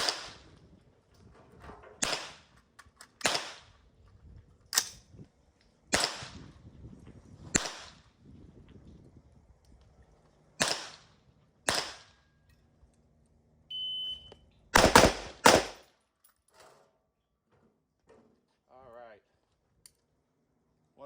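Sharp AR-15 rifle shots ring out during a timed shooting drill, about a dozen loud cracks spaced unevenly with a rapid double or triple burst near the end, with quiet gaps and faint background sounds between.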